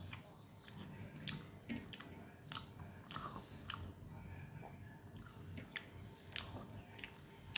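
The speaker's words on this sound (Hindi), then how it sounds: "आराम से दबा करके इसको चबा करके" Slow chewing of food with soft crunching bites and wet mouth sounds, close and quiet, repeating at an unhurried pace through a home meal of roti.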